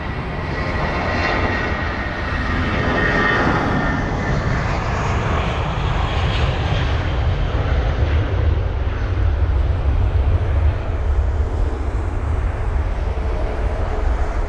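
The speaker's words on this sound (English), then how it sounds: "The BA A320 on the move." British Airways Airbus A320 jet taxiing at London Heathrow, a steady loud engine roar and whine lasting throughout, slowly rising and falling with no talking.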